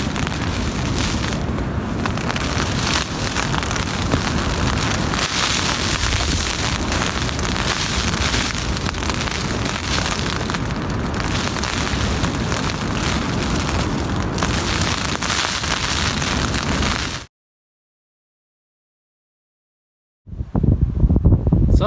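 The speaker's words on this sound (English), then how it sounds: "I'm not so sure the tent will survive the night" Storm Arwen batters a Naturehike Cloud Up2 tent with heavy wind and rain, a dense, roaring wash of gusts and drumming on the fabric that runs loud and unbroken, cuts to silence, then returns.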